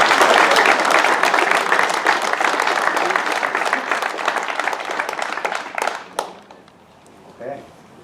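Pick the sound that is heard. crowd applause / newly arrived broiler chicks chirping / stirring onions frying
crowd applause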